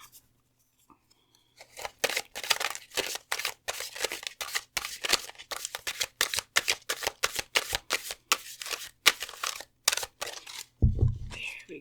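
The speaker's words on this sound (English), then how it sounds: "Apologies if my shuffling is a bit messy on this deck" Oracle cards from an Archetypes deck being shuffled by hand, a steady run of quick riffling, slapping bursts up close, briefly interrupted and a little uneven.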